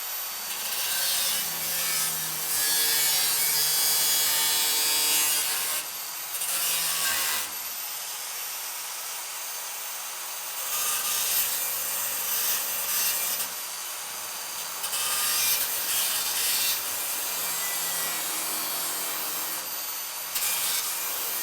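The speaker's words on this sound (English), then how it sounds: "I gotta cut some more right here." Steady back-and-forth sawing through curved metal subrail stock for a Model A, a continuous gritty rasping that runs nearly the whole time with brief pauses, close and fairly loud, no talking.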